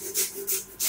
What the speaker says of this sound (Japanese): ここで初めてノコギリが、